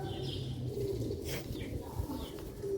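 Sialkoti pigeons and quails coo low and close, a soft continuous burble with occasional wing flutters and faint chirps over a steady background hum.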